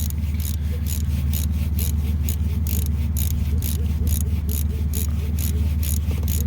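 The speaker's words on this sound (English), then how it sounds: "Go ahead and get this bolt tightened back up now." A 3/8 ratchet tightens a camshaft sensor bolt on a car engine, a rapid, regular clicking of the pawl over a low steady hum, close and continuous.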